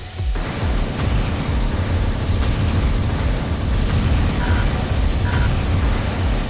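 A sustained heavy rumbling blast from a grenade launcher in Armored Core 3, a loud low roar that begins abruptly and carries through without pause.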